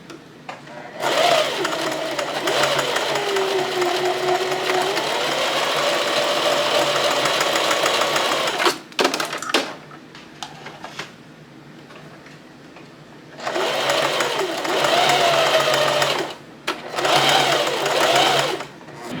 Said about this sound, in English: I'm using my widest zigzag and a stitch length of 1 so that they're very close together.